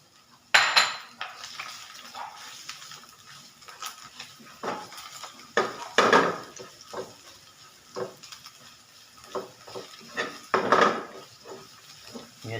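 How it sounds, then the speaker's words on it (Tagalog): Metal utensils clatter and scrape against a pan in irregular bursts, with a faint sizzle underneath, as garlic and onion are stirred while they fry. "Panggisa lang natin sa bawang at sibuyas."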